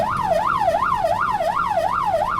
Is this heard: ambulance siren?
yes